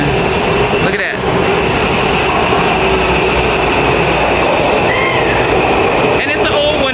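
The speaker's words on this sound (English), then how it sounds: "Let me get the train behind us as it's coming." A train pulling into a station platform, a steady loud rumble and rail noise filling the whole stretch with faint squeals, while a person talks over it.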